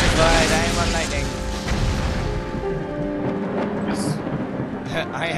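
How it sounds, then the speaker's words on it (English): Lightning effect in the action role-playing video game Torchlight 2: a loud crackling electric burst that fades into a lingering rumble, with game sounds and talk mixed in. "I am electrified, I am on lightning."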